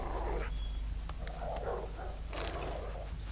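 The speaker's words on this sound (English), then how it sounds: "You're a very good dog." A dog in the Witcher 3 video game gives short whimpering yips and small barks against a steady game soundscape, a few brief close vocalizations with no talk over them.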